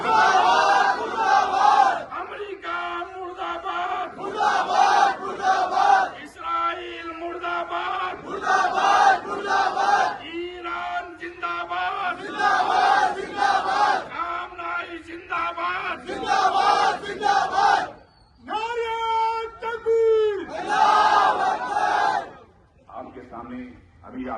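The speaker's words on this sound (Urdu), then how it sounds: "میں ایک نعرہ لگاتا ہوں، ہاتھوں کو بلند کر کے سب لوگ اپنے بلند کر کے کہیے، امریکہ مردہ باد" A large crowd at a rally in Hyderabad chants "Death to America" in Urdu in loud, rhythmic bursts, repeating the same phrase again and again with short pauses, and a single voice leads between rounds.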